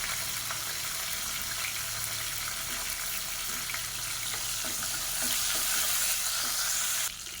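Halved small onions and green chillies fry in a pan with a continuous loud sizzle and some stirring. The sizzle swells briefly before cutting off at the end.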